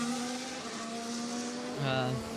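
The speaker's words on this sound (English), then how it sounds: "Oh, it's chugging. I think, is that gearbox Ermi, do you reckon?" Formula 1 car engine during a practice session, running with an uneven, chugging note from a suspected gearbox problem; a steady loud engine drone with a brief pitch dip near the end.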